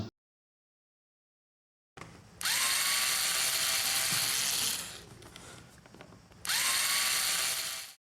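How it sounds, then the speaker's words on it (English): An electric screwdriver backs screws out of a Brother laser printer's plastic waste toner box, giving two sustained whirring bursts with a rising start, separated by quieter clicking and handling of the part, close up with no talk. "Remove the 5 screws."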